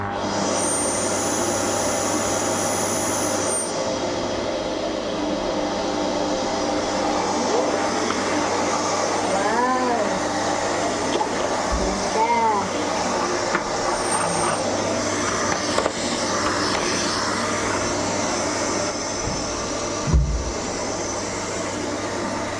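A new vacuum cleaner runs on carpet, giving a steady, loud whooshing whir that holds unbroken for over twenty seconds with a few faint bumps and knocks.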